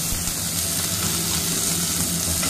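Mustard seeds and fresh curry leaves sizzle in hot oil for a tempering, a dense, loud, continuous hiss and crackle filling the whole moment without pause.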